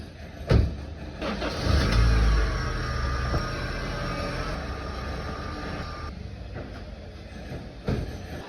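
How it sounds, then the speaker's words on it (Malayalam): A car engine runs steadily for several seconds as the car reverses, with a few knocks and thumps in the cabin and no talk. "ഇപ്പൊ ഞാൻ വണ്ടി എത്തിരി എടുത്ത് ബാക്കിലോട്ട് ഇട്ടിട്ടുണ്ട്"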